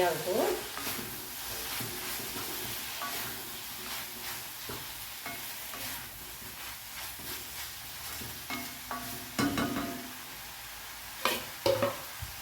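Grated coconut and ridge gourd fry in oil with a continuous soft sizzle, broken by scattered scraping stirs and clinks against the pan that grow busier toward the end.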